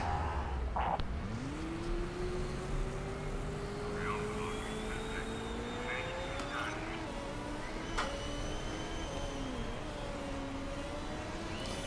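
Racing cars in the management game Motorsport Manager lapping the track, a steady engine whine rising in pitch as a car accelerates, with background game ambience throughout.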